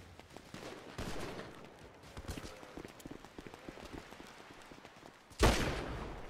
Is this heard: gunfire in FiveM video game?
yes